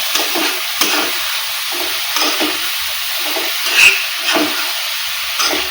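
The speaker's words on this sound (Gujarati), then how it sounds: "હવે આપણે તેમાં જે કોરી કરી દીધી છે મેથી તેને એડ કરીશું। હવે આપણે તેને સરસ મિક્સ કરી લઈશું" Fenugreek seeds stirred into roasted spices in a pan, giving repeated scraping strokes every half second or so over a continuous hiss of sizzling, close and clear with no talk.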